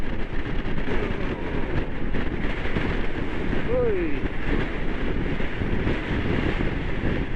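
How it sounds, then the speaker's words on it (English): Steady, loud wind buffeting the microphone while riding a motorcycle on a long trip through the Norwegian fjords toward the Arctic Circle, a continuous broadband roar throughout with one brief tonal whistle midway. "Loving the wind."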